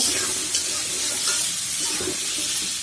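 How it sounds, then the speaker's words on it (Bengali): Potato pieces fry in hot oil in a pan, giving a loud, dense, steady sizzle close by, with faint stirring scrapes and no talking. "তো দেখেন আমি আলুগুলো লাল লাল করে ভেজে নিয়েছি।"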